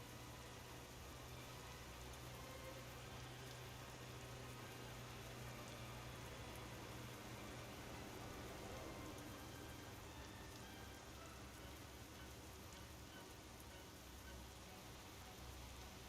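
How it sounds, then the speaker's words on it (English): Steady rain patters in the Euro Truck Simulator 2 truck-driving game, a faint, even hiss of falling drops over a low engine drone that runs unbroken with no voices. "Might be because of the rain."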